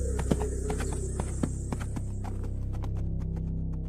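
A horse's hooves clip-clop in a quick, even rhythm while it is ridden, sharp close knocks over a low steady hum with no voices.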